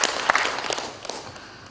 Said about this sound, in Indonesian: Tepuk tangan untuk desa adat kita.